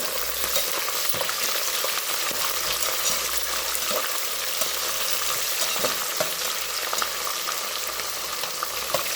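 Food fries in a mix of oil and ghee, a dense, even sizzle that runs without pause, with occasional soft stirring scrapes and no talking.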